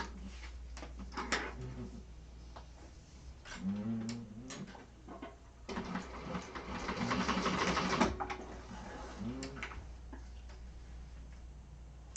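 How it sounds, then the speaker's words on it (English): Sewing machine basting along the raw edges of quilt fabric, heard as faint intermittent bursts of stitching with clicks and handling noises in a quiet room, the longest run in the middle. "I'm just going to take this to the machine and kind of baste those in place just along these raw edges"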